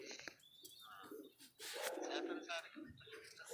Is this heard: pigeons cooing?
yes